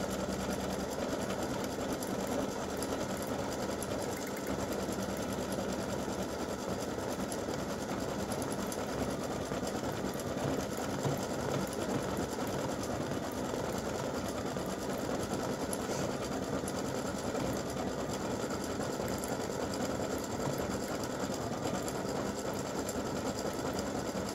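An embroidery sewing machine stitching a green outline on an awareness ribbon design, humming and clattering in a steady fast rhythm throughout, close and continuous with no voices.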